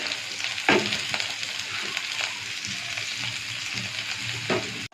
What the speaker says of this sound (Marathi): जिरं आपलं गरम झाले, लसूण टाकते, मिरच्या पण टाकते।